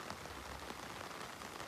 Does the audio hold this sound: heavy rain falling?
yes